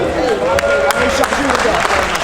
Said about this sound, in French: Deuxième, Cannes, on peut les applaudir.